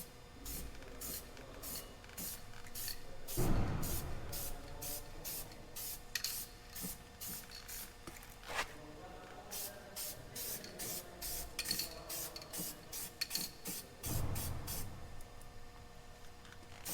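Spray-on gravel guard coating hisses onto a Jeep TJ door in a long run of short, rhythmic bursts, with a couple of louder thumps partway through and no talking.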